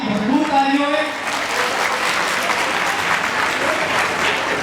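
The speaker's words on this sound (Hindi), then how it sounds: "खुशामदीद कहेंगे आपकी भरपूर तालियों में" Audience at a World Teachers Day children's expo event in Karachi breaks into steady, full applause, with a host's voice and some tonal sound briefly audible at the start.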